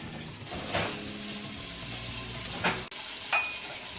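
Chicken parm sizzling in a hot skillet, a steady frying hiss with a few louder crackling spatters and a brief clatter partway through, no talking.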